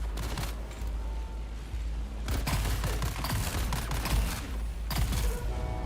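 A shell buster weapon fires in the video game Dune Awakening, with rapid bursts of gunfire in clusters over a steady low rumble, loud and close, and no talk.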